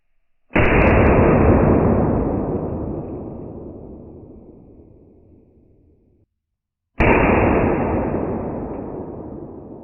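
A blank gun revolver with an open barrel fires two loud, sharp shots several seconds apart, each leaving a long fading echo before near silence.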